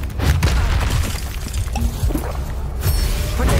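A Confringo fire spell blasts in Hogwarts Legacy, set in a haunted Hogsmeade shop: a continuous roaring, crackling burst with dense low rumble, steady and loud for several seconds, no talking.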